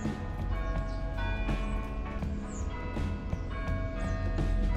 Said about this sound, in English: I caught the church bells in the background